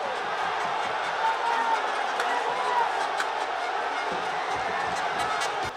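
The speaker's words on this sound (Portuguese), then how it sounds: "A torcida vai à loucura." A stadium crowd roars after Globo's goal against Botafogo-PB at home, a sustained loud wall of cheering with scattered shouts and claps, a commentator's voice partly buried in it.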